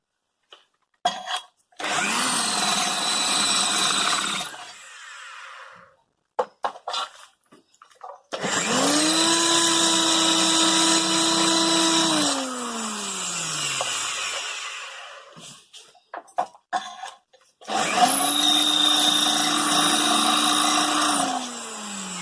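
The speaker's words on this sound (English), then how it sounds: "you just got to drill 4 holes that's 12mm into the concrete" A power drill with a metal bit whines at high speed in three long bursts, drilling 12mm holes through rubber into concrete floor, separated by knocks and pauses. Its pitch dips as each burst winds down.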